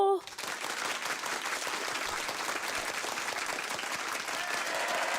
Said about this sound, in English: It's so weird to be hearing applause.